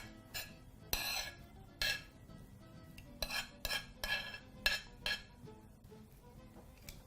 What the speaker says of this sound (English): very simply begin by plating your omena. So I'm just going to lay that right at the front there for you to see